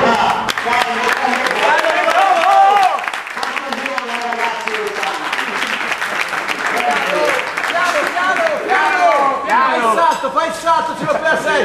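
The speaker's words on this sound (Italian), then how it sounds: "Comunque un grande applauso a Gianluca." An audience applauds at a lively Italian show, steady clapping mixed with crowd noise and overlapping voices throughout.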